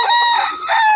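A Sweater breed gamecock rooster crows once, a loud, close and brief call with no talking over it.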